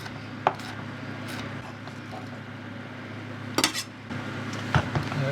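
A knife chops chilies on a kitchen cutting board with a handful of scattered sharp knocks over a steady background hum, fairly close and clear.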